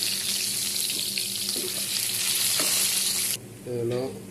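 Small puti (swamp barb) fish fry in hot oil with a steady, dense sizzle and a few stirring clinks, then the sizzle drops away near the end as a brief splash of water hits the pan.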